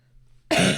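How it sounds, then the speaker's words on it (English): One sharp, loud human cough bursts out suddenly after a near-silent pause and is heard close up on its own. "There's my cough"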